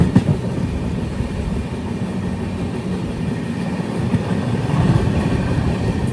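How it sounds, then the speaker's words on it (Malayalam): Steady rumbling and rattling of a Tata Nagar Express train running toward Podanur railway station, a continuous loud wheel-and-carriage roar heard from inside the coach, with no talk. "ട്രെയിൻ ഇപ്പോൾ പോത്തന്നൂർ റെയിൽവേ സ്റ്റേഷനിലേക്ക് എത്തിക്കൊണ്ടിരിക്കുകയാണ്."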